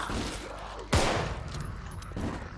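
A single sharp nail gun shot in the video game Contagion, one loud close crack standing out from a background of quieter game noise and faint clatter.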